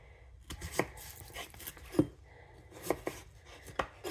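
A knife chops onions on a board for home-style chili, four or five distinct, spaced thunks with soft scraping between, close and alone without speech.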